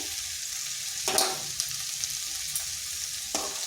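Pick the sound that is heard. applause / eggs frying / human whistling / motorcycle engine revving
eggs frying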